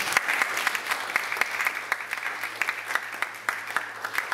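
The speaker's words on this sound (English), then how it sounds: "Give yourself a round of applause." Audience applause for a leadership speaker at a Nigerian event, a dense, steady wash of many hands clapping at moderate volume for the full stretch, with no voices.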